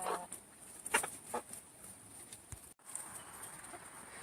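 Rhode Island Red hens at a backyard coop let out a few soft, brief clucks, faint and distant over quiet background.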